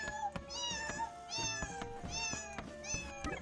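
A cat meows repeatedly in the video game Bully: Scholarship Edition, several clear, close meows in a steady rhythm over game music.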